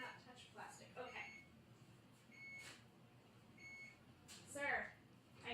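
An oven gives a few short, thin electronic beeps at intervals, fairly faint beneath steady background noise and murmuring.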